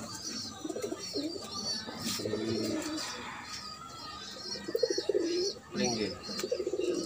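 Pigeons in a loft give soft, rolling coos in several bursts, with a person speaking briefly and some shuffling and rustling nearby.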